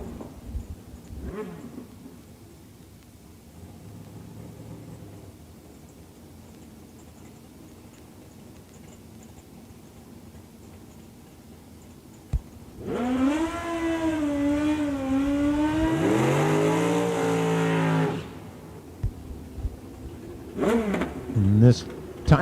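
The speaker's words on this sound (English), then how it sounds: "Sounds like you got another motorcycle coming at us." A motorcycle at a drag raceway rises from about 13 to 18 seconds into a loud, sustained engine roar with a climbing whine, then cuts off. The track announcer talks over the quieter stretches before and after it.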